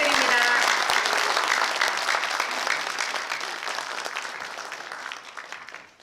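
A large crowd claps steadily, a dense wash of applause that slowly fades toward the end.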